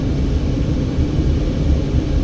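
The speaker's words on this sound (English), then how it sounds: "there's a tourism helicopter up there in the sky" A tourism helicopter passes over the Hoover Dam area near the Interstate 11 bridge outside Las Vegas, heard as a steady, fairly loud low rumble that drifts on alone without talk.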